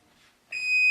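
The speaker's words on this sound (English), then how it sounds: "I'll shut the timer off." A kitchen timer goes off while rye bread bakes, one sharp, loud electronic beep starting abruptly halfway through and holding steady to the end after near silence.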